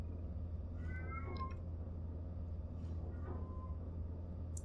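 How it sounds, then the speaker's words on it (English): Domestic cat meowing loudly indoors, a few short rising cries standing out over a steady low room hum, with no one talking. "every video from now on is going to just have the guest spot of my cat screaming at the ghosts I assume only she can see."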